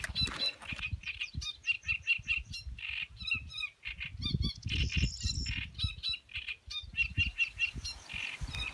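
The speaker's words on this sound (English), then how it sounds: "You hear the strangest birds here." Birds call beside the Canal de Castilla near Frómista on the Camino in Spain, repeated chirps and squawks in quick bursts, fairly close and clear, with no voices.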